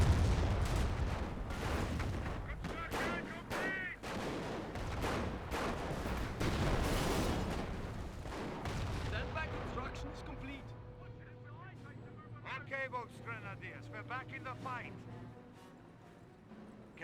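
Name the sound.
artillery barrage and gunfire in video game Company of Heroes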